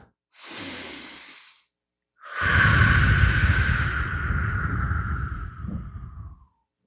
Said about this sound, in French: prends une bonne respiration